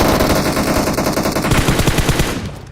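Automatic gunfire in the mobile battle royale game PUBG Mobile: loud, rapid, continuous bursts of shots, close and dense, fading out at the end.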